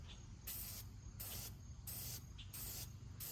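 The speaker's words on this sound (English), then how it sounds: "The oil can is basically a spray paint can." Four short bursts of filter oil spray from an aerosol can hiss in an even rhythm, close and bright, over a low steady background hum.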